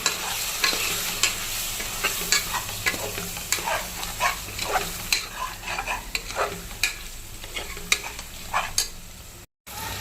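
Two or three green chillies, with mint, sizzle in hot oil in a pan while being stirred, a steady crackling fry broken by repeated scraping strokes of the spoon, close and continuous with no voices.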